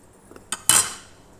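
A spoon clinks against a bowl while chapati dough is mixed with salt, oil and a little sugar; a couple of faint taps precede one sharp scraping clatter that fades quickly, nearby and without talk.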